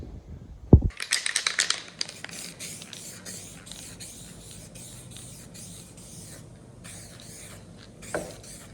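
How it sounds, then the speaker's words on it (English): A can of Spectral epoxy edge primer shaken during a Ford Focus bonnet repair: a sharp knock, then a burst of rapid rattling clicks from the mixing ball, fading into softer scratchy hissing and a final faint clack. "you got some Spectral epoxy edge primer, give this a shake now"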